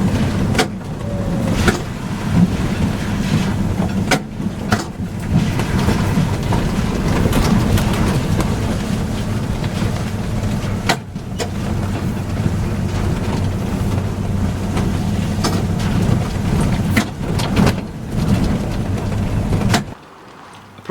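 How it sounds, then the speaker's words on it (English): A trolleybus driving the demonstration track at the Sandtoft trolleybus museum, with a steady rumbling ride punctuated by intermittent sharp clacks of its contactors switching in and out. "The constant chatter of the contactors is in response to the application and release of pressure on the accelerator pedal"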